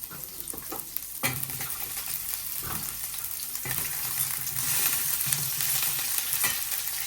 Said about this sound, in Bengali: ডাটা আর আলুটা একসাথে দিয়ে দিলাম